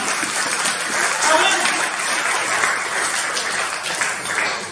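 A church congregation applauds to acclaim the king, giving steady, dense clapping that fills the room without pause. A voice is heard under the applause.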